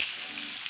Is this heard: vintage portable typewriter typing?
no